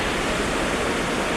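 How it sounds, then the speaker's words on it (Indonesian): Water rushes and spills through the Krueng Sawang irrigation channel in North Aceh, making a dense, constant roar close by with no pauses. "gemuruh airnya yang bertumpah di irigasi ini"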